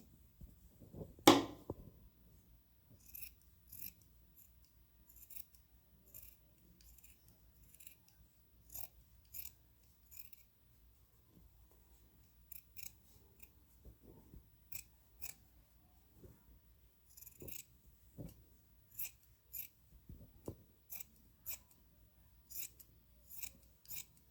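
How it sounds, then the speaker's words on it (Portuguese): Scissors snip around the edge of interfacing fabric while an embroidered lion piece is cut out, making a long series of short, quiet crisp cuts in a steady, uneven rhythm, close by and with no talk. "E vamos cortar todo ao redor."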